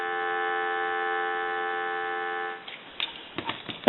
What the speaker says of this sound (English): I want to give you some dial tone